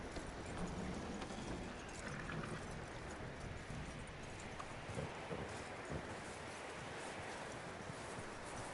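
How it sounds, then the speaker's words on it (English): Horse hooves clip-clopping in Red Dead Redemption 2, a steady rhythmic walk heard up close amid faint outdoor rustling, with no talking over it. "That looks like a decent horse."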